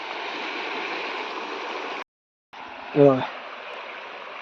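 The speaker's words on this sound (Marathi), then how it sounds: "ही अर्जुना नदी आहे." Flowing water of the Arjuna river near a dam, a steady broad rush that cuts out briefly midway, then returns with a short voice-like sound over the continuous flow.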